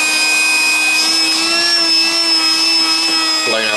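A homemade respirator blower fan pushes air through a filter with a loud, steady whine and whoosh very close by, holding constant before a brief shift at the end.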